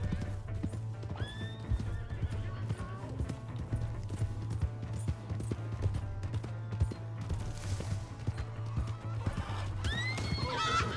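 Hooves of a horse in Red Dead Redemption 2 clip-clop steadily over a low droning hum, with the horse whinnying a couple of times, clear and close.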